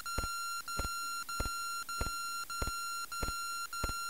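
A steady electronic tone from the WonderSwan game Clock Tower: The First Fear pulses in regular beeps, about one every half second, each marked by a soft click, alone and fairly quiet.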